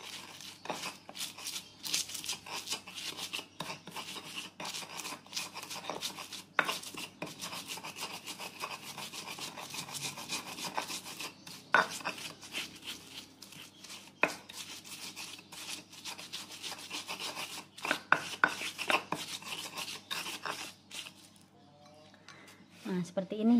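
Salt, sugar and spices are ground by hand for a pecel peanut sauce, making continuous scraping, rubbing strokes with occasional sharper knocks, heard under a person talking.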